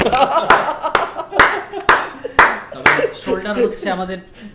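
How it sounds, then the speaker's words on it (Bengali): About seven separate hand claps ring out close and loud at a slow, uneven pace, and a voice speaks over the last moments. "হাততালি।"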